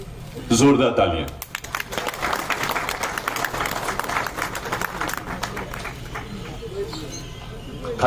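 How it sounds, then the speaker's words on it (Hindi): Audience applause at the inauguration of a trade show in Srinagar, a sustained round of clapping in a large gathering, with a voice over a loudspeaker briefly before and background chatter mixed in. "जोरदार तालियां।"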